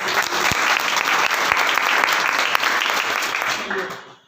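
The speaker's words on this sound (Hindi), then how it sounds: "एक बार जोरदार ताली हो जाए" Loud applause from a roomful of people at a business income-plan meeting: a dense burst of clapping with a few sharp claps standing out. It fades away at the end, and some voices mix into the noise.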